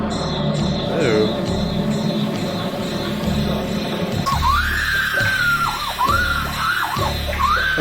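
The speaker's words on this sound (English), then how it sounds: "That's some good screaming, man." A woman screams in the 1984 film A Nightmare On Elm Street: several high, wavering shrieks in the second half over a dense film soundtrack, with people talking during it.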